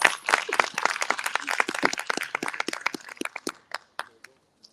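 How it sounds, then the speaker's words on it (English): Audience applause at a 112th anniversary and Founder's Day celebration: dense clapping from a crowd that thins out into a few scattered final claps and fades to quiet. "Let's give them one more round of applause."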